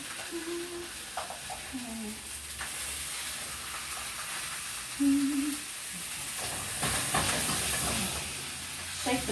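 Sausages frying in a non-stick frying pan sizzle and hiss steadily, with bursts of louder spitting as the pan is moved, while brief tonal beeps or hums sit faintly under the frying.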